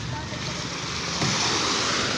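Waves breaking on a seashore make a steady, loud broadband wash with wind rushing across the microphone, swelling slightly midway through and continuing without a break.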